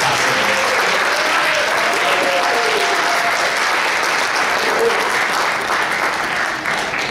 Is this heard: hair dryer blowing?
no